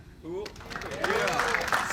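An audience claps at a stand-up comedy show. The scattered applause builds from faint to steady while a voice talks over it.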